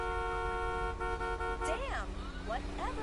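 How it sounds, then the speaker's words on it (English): A car horn honking in Grand Theft Auto V, a sustained toned blare followed by a couple of shorter wavering honks over a low engine rumble, with a voice talking through it. "and honk at those women"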